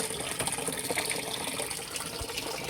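Water gushes steadily from a tap into a basin being filled for hand laundry, a continuous close splashing rush without talk.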